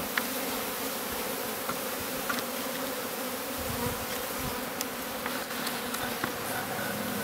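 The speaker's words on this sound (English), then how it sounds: "there's a lot of bees on the ground" Honey bees buzzing around a hive as a new colony is settled in, with many bees on the ground nearby: a dense, steady drone that fills the scene, with no voices.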